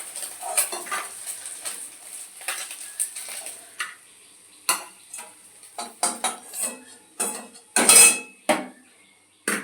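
Whole fried Morla fish lifted from a pan into a bowl, with a string of sharp metal clinks and scrapes of a utensil against cookware, irregular and close, separated by quiet gaps, no voices.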